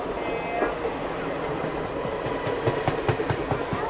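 A Bangalore–Anantapur MEMU train runs with a steady rumble and rhythmic clicking wheel beats that grow more distinct toward the end, heard from on board. Someone talks briefly over it.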